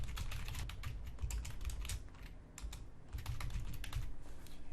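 Someone types an answer for an online quiz on a computer keyboard, a steady run of close, quick key clicks with a brief slowdown midway.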